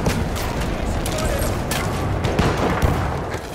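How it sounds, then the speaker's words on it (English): Rapid machine gun fire in a chaotic shooter video game, dense overlapping bursts of gunfire crackling loudly and continuously with a few sharper shots standing out. "There's a machine gun."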